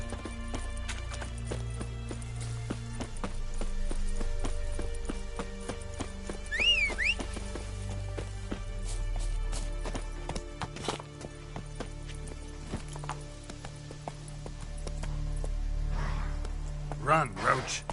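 Roach the horse gallops in The Witcher 3, with steady clip-clopping hoofbeats running through most of the stretch, joined by a couple of brief whistles and low background music.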